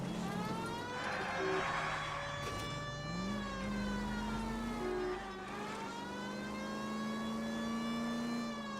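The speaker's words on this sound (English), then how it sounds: "It might move if you use the siren, Phelps." Police car siren in the video game L.A. Noire, a loud continuous wailing tone rising and falling in long sweeps over a steady engine drone, close and unbroken throughout.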